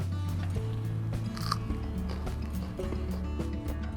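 Crunchy fresh, half-ripe Hayany date fruit, about four months after pollination, bitten and chewed up close, giving a few crisp crunches over a low background hum.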